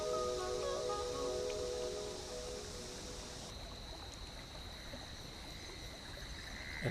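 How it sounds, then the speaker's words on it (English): Video-game creek scene in Big Walk: steady flowing water and soft wind in trees fill the background. A faint tonal layer and light rustling sit under it, with no voices. "Sometimes it's nice just to sit by a creek and listen to the wind in the trees."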